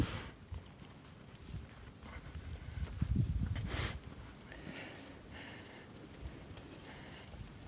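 Horses walk close by, their hooves clip-clopping in a loose, uneven rhythm with one louder burst of movement midway, heard softly outdoors without talk.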